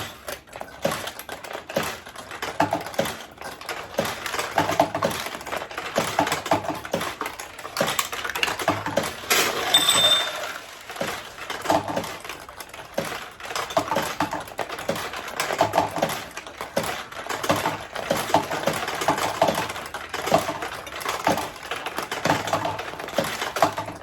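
Steel balls clatter and rattle continuously through a vintage pachinko machine, a dense busy chatter of small metallic clicks with a brief louder flurry midway, no talking.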